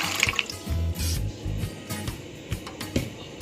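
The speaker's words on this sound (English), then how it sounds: "8 ounces of peas, and we're going to wash them and add them to the pot" Peas being washed in water, with close splashing, dripping and sloshing in uneven bursts, moderately loud and without talk.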